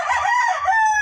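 A Black Dom Hatch gamecock rooster from Pangasinan, 26 months old, crows once: a loud, close, sustained cock-a-doodle-doo lasting about a second with no other sounds.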